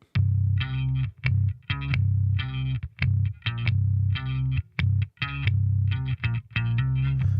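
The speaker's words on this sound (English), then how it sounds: "we're using this octave pedal, which this is like a sort of little module version of an Ampeg octave pedal from the 70s" Electric bass played through an Ampeg SVT amp emulation and a small module version of a 1970s Ampeg octave pedal, giving a deep, distorted, chorused tone in loud rhythmic bursts of short notes separated by brief gaps.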